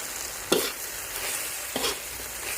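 Spicy eel stir-fried with holy basil leaves, chilli and pepper in a pan, a close hiss of sizzling oil broken by two sharp scraping tosses of the spatula, no talking.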